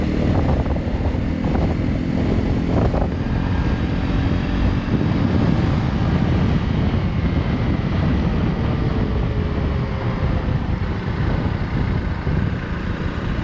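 Honda CRF 300 Rally motorcycle climbing a hill in sixth gear, a steady loud engine drone mixed with heavy wind rush across the microphone, continuous throughout with no talking.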